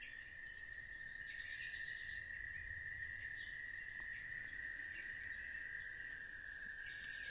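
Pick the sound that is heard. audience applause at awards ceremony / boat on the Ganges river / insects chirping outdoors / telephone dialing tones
insects chirping outdoors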